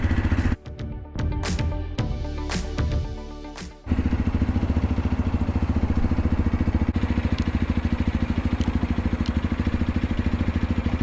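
A Barton Blade R 125cc motorcycle is started without pulling the clutch. Starter whirring and clatter lead to the catch, then the engine settles into a steady, close, even idle thrum that runs on alone.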